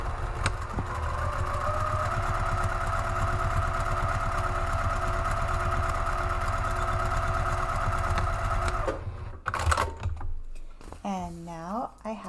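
A sewing machine runs steadily for about nine seconds, stitching a side seam to side seam on a three-way divided caddy, then stops; a voice follows briefly afterward.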